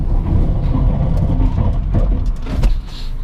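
A JAC J3 Turin car with 97,000 km braking hard in a brake test: steady, loud road and engine rumble, then a brief harsh surge near the end before the noise abruptly drops away.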